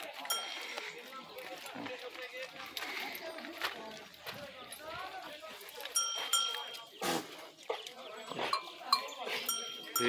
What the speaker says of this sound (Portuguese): Olha as ovelhinhas aí, ó.